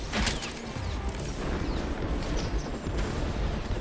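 In the video game Maximum Action, booming RPG rocket fire and explosions sound amid loud, continuous battle noise, with dense rumbling blasts and a chopper fight.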